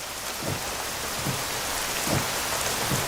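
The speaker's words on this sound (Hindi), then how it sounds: "बारिश भी होने लगी" Steady rain falling during a stormy night on a roadside, a dense continuous hiss with a few low rumbling swells, moderately loud, with no voices.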